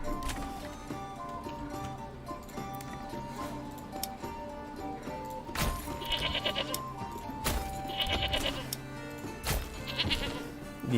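Goats bleat at a goat shed in the medieval strategy game Manor Lords, a few nasal bleats rising over a busy game soundscape with background music and ambient village noise.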